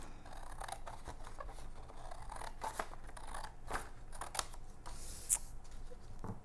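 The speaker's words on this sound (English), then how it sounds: "So you want to take your scissors and cut that off." Scissors snipping off a strip of paper while folding a paper airplane, a few soft close cuts and paper rustles over a quiet room, with one sharper click near the end.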